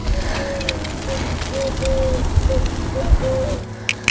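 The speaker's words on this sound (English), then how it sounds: "It's either an owl or a dove. I think it's an owl." Owl or dove calling outdoors during a steak cook, a series of soft, low hooting coos repeated several times at a distance beneath steady outdoor noise and a few knocks.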